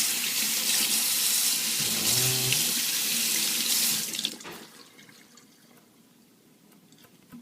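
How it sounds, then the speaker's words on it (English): A hookah ashtray is rinsed under a running tap, a loud steady hiss of water splashing over metal with a brief gurgling change midway, then the flow cuts off and leaves quiet room noise. "You just run water over it."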